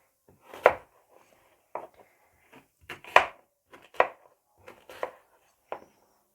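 A knife chops through apple and orange on a cutting board in about eight sharp, separate strokes with short pauses between them, close and crisp against an otherwise quiet background.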